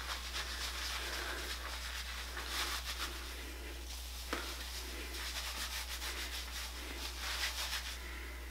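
Foam hair color rubbed into the roots and regrowth by hand: steady, close, soft rubbing and squishing with brief bursts of friction, no talking.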